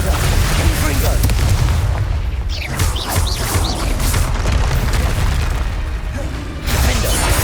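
Spell blasts and explosions in Hogwarts Legacy: dense, loud, booming combat bursts over a rumbling low end, with a voice calling out over the noise.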